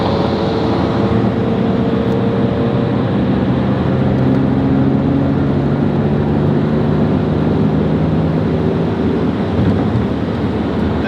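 BMW Z3M Roadster pulling onto a highway and accelerating from a cold engine, a steady close drone of engine and road noise with wind buffeting throughout and no speech.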